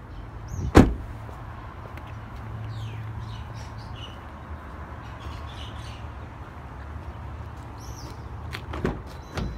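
A single sharp door thunk sounds up close as someone climbs into a 2012 Toyota RAV4 4x4 with manual transmission. A quiet cabin hum follows, with a faint click near the end.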